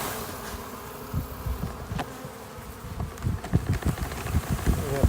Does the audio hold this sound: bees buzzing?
yes